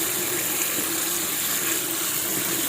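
Tap water gushes steadily into a colander over cut pieces of caladium tubers being washed, a loud, continuous, close rush of water with no break.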